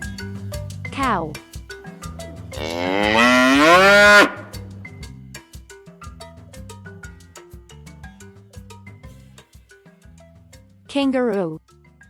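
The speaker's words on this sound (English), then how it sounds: "Cow." Cow mooing in loud, drawn-out calls, one long bellow in the middle and shorter moos at the start and end, set over a steady background music track.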